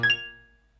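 A single short tone from music generated out of typed text by a Python script, routed through a piano instrument, struck once and quickly decaying, close and alone.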